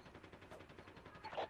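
Rapid bursts of SMG fire in a video game, automatic with a tinny quality, growing louder and sharper toward the end.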